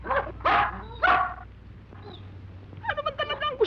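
A dog in a Filipino action film scene gives a few sharp, close barks in quick succession, then a pause and a rapid run of higher yips, with a low hum underneath.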